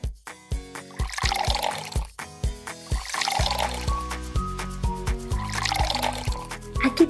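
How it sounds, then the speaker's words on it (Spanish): Water pours into small toy cups in bursts, with a steady trickling splash under loud, prominent background music. "Vamos a colocar el agua."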